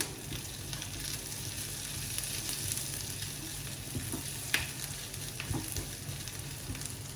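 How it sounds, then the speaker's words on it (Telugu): Three green chillies sizzle in hot oil in a pan for an Andhra-style dish, a steady crackling fry with light stirring clatter and a few sharp pops, no voices. "పచ్చిమిర్చి కూడా వేసేస్తున్నాను"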